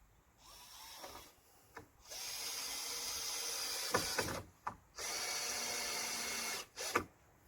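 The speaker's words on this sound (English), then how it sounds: "Get a few screws, screw it straight into the noggins." A power drill drives screws into wooden pallet noggins for a pallet garden, with two long whirring bursts of drilling separated by short pauses, knocks and handling sounds, close and clear.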